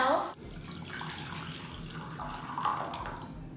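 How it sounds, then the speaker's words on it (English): Hot water poured into a bowl, a steady close splashing pour that runs throughout after a brief clatter at the start. "Pour it in the bowl."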